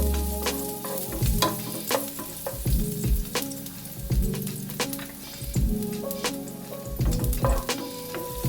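Garlic sizzles steadily in hot oil in a pan, loud and close, with a metal utensil clinking and scraping at a regular rhythm as it is stirred.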